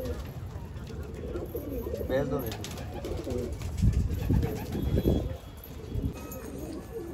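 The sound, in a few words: Hyderabadi pigeon cooing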